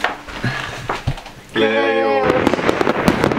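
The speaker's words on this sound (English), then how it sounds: "We like to blow up a lot of fireworks." Fireworks bursting during New Year's celebrations in Iceland, a steady crackling barrage of pops and bangs filling the second half, with people talking over the noise and a sustained tonal sound briefly standing out.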